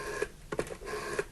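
A few short electronic tones spaced unevenly, like keypad beeps being dialed on a telephone, fairly quiet with a faint background hum.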